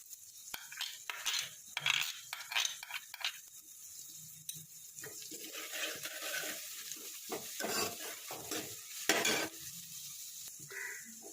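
Garlic sizzles in a hot pan while a utensil stirs and scrapes, with occasional metallic clinks of cookware.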